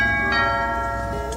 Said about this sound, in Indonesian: Bel pun berbunyi, mereka kedatangan tamu